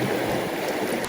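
A stream runs fast and swollen in the rain, a dense, continuous rushing of water close by, loud and unbroken through the brief moment, with no voices.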